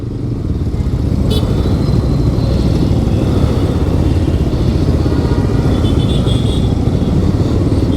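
Motorcycle riding through Bengaluru traffic, a loud, continuous close engine drone with rushing wind and road noise and no pauses.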